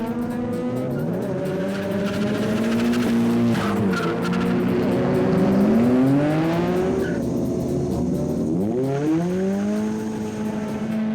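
Race cars, including a GTR and a Starlet, launching off the start line with loud wailing engines rising and falling in pitch as gears change, joined by tire squeal as several cars pull away close together.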